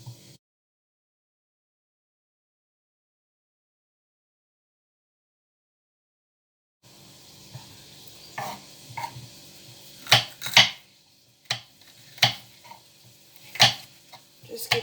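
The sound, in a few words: knife cutting green pepper into small cubes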